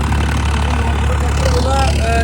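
A tractor engine runs steadily on newly bought farmland in Punjab during wheat sowing, a loud, continuous low drone that holds throughout with no break.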